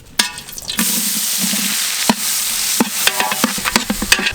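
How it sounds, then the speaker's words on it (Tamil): Large onions and green chilies fry in a big batch of hot coconut oil for jackfruit biryani, with a steady loud sizzle broken by sharp clacks of a ladle stirring against the pot. "வெங்காயம் பொன்னிறமாகட்டும்"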